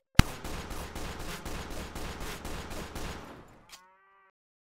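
Pistol gunshots in the Source Filmmaker game fire as a rapid burst of about eleven evenly spaced loud cracks over roughly three seconds, fading out, followed by a short metallic clink and a ringing tail.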